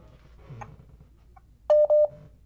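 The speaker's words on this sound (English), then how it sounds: "What's that beeping sound?" A new phone gives two short, clear electronic beeps in quick succession near the end, following a moment of faint background noise.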